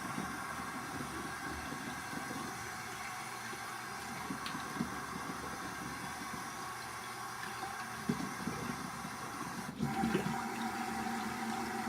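Running water pours steadily from a tap while a shaving razor is rinsed, a continuous close hiss with light splashing that swells slightly near the end.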